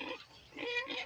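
A pig grunts and snuffles at close range while being fed outdoors in the morning, soft rough bursts repeating with no speech.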